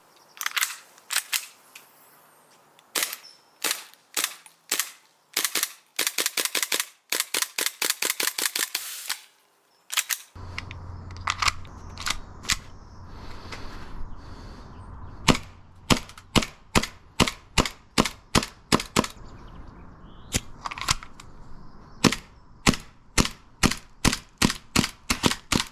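An airsoft gas blowback pistol with a single-stack magazine fired in a shooting test: sharp, loud, close cracks in quick bursts and steady single shots, each with a snappy slide clack, continuing with brief pauses.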